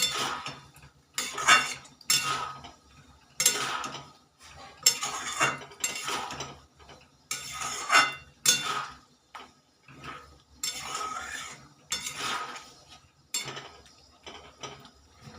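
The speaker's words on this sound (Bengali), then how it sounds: "তারপর আমি ফুলকপির পকোড়াগুলো দিয়ে সসের সাথে একটু নাড়াচাড়া করে নেব।" Fried cauliflower pakoras are stirred into boiling chili gravy, heard as repeated metal spoon clinks and scrapes against the pot in rhythmic bursts with short pauses, fairly quiet and close.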